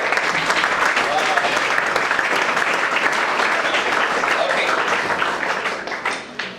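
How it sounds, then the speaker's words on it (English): A classroom of students at a school gives sustained, dense clapping for a boy, close and steady for several seconds before tapering off near the end. "Give a big clap to the boy."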